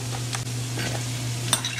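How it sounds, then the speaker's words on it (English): A spoon stirs yogurt mixed with salt in a bowl, making short, soft scraping and swishing sounds up close over a steady low hum. "Mix it everything together like this."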